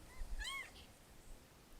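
A small kitten gives a short, high meow near the start, faint and nearby, followed by quiet room tone.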